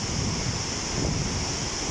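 A constant roar of rushing water from the Kapuzbaşı Waterfalls fills the air, dense and unbroken, with a broad hiss on top.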